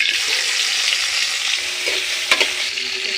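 Bitter gourd and red tomatoes fry in a pan with a constant loud sizzle, broken by a sharp utensil knock near the end, with no voices.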